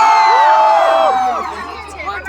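A loud crowd at a Bengali film event in Siliguri cheers and whoops, with high excited shouts that ride over the din and taper off near the end.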